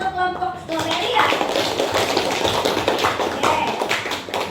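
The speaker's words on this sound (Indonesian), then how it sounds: "Boleh tepuk tangan untuk kelompok stroberi ya" A primary school classroom clapping for a student group, a burst of many hands applauding in a dense, steady patter with children's voices mixed in, carrying on loudly after a brief voice at the start.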